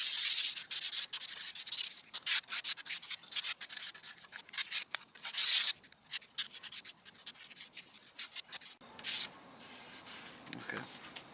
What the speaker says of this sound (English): how to go about sanding the pieces